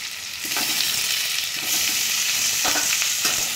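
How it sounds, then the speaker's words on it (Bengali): Potatoes fry with softened onions in a pan for a prawn curry, giving a steady close-up sizzle with a few brief stirring scrapes and no voices. "আলুগুলো আমি এর সাথে ভেজে নেব একবারে।"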